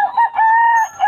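A rooster at a weekly chicken market in Bukawi lets out one loud, close crow with a sustained harmonic call, no talk over it.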